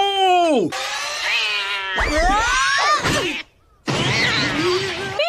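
A cartoon cat in the Naruto Shippuden anime lets out loud, close meows and yowls in several drawn-out cries with a short pause, mixed with clattering sound effects.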